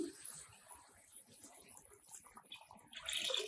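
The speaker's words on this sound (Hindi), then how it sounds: "तो ये जा रहा है इसके अंदर पानी।" Water poured into a pot for chicken yakhni pulao, a soft, close splashing trickle that swells into a louder gush near the end, with faint kitchen background.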